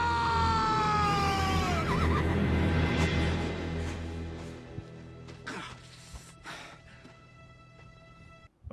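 A horse whinnies loudly in a Game of Thrones battle scene, its rising and falling neigh set over a dense rumble of battle noise that fades into quieter, scattered sounds.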